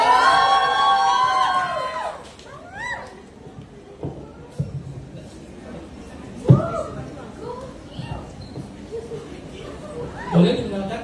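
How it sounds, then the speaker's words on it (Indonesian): A crowd cheers and whoops loudly at an Indonesian film cast reveal event, fading after two seconds into scattered chatter, laughter and bursts of voices. "Boleh tepuk tangannya teman-teman?"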